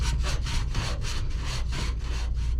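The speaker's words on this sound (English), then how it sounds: "You wanna sand the edge of the pipe a little bit, but also deburr the inside and the outside of this pipe" The edge of a pipe is sanded in steady back-and-forth strokes, about eight rasping passes in quick rhythm, close and loud with no talking.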